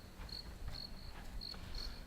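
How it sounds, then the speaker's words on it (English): Crickets chirping on a quiet night, a steady series of short, high pulsing trills repeating every half second or so over a low background hum, moderately distant with no voices. "crickets chirping"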